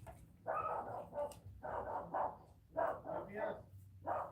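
A dog barks in a string of muffled, moderately distant bursts indoors, several barks in quick irregular succession with short pauses between.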